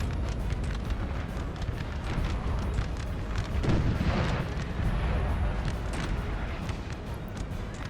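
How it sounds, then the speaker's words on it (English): Artillery booms across a Napoleon: Total War battlefield amid a dense din of massed musket fire, rumbling explosions and crackling volleys, loud and continuous with a heavier surge near the middle. "the artillery is up and firing"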